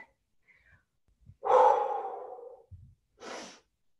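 Heavy exhale during a leg workout: a long, loud, breathy gasp that fades over about a second, followed after a pause by a shorter, sharper breath, with faint thumps between them.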